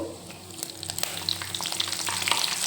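Curry leaves and green chillies sizzle and crackle in hot oil in a pan while making Bombay saagu, with stirring scrapes and steady frying noise close by and no talk.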